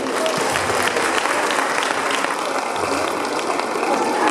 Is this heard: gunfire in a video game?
no